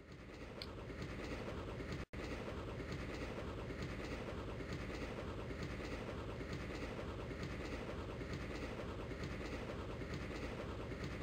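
A moving train in the video game Grandia rumbles and clatters in a steady, dense loop, unbroken apart from one momentary dropout, with no talk over it.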